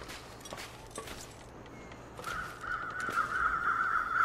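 Crows caw in the video game The Long Dark over a low outdoor background: a few scattered calls at first, then a louder, sustained cawing toward the end.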